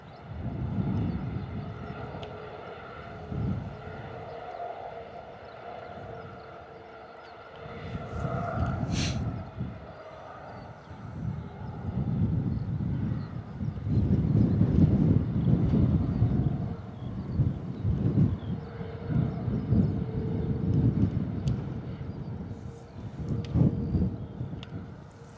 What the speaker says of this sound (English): Landing lights on for our 321 Neo. Going to be taxiing onto runway 27.